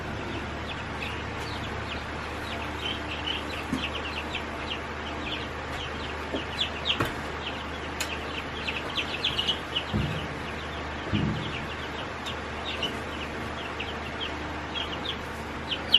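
Farmstead birds in a covered pen give faint, scattered clucks and short calls against steady outdoor background noise, with no talking.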